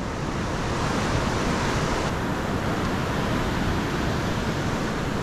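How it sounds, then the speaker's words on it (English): Evening ocean surf rolls steadily onto a fishing beach, a dense, continuous wash of breaking waves with some wind noise over the microphone and no voices. "Definitely have some energy in these waves though."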